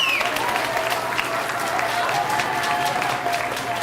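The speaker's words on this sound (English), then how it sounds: "We also want to give a big round of applause for Officer Nielsen" Steady applause from an audience at an elementary school gathering, honoring a police officer; the clapping is moderately loud and continuous, with faint voices blending into the crowd noise.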